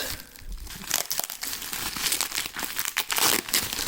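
Packaging tape is torn and crinkled off an accessory box for an Insta360 One R camera, a continuous close rustling and ripping noise with several sharp tears.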